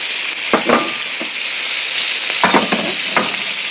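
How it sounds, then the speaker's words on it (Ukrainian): Carrots sizzle as they fry in a pan with softened vegetables, a steady broadband crackle with several short stirring clatters, close and alone. "Так, пішла наша морковка. Зараз ми це все діло обсмажимо."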